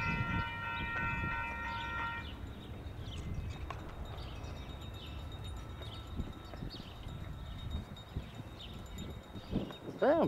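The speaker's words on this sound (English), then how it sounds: "And there'll be a westbound Z train supposed to be coming here sooner than later." Union Pacific freight train on the Clinton Subdivision in Iowa, heard as a steady broadband rail rumble and wheel noise running throughout, with a brief horn-like tone near the start and some wind.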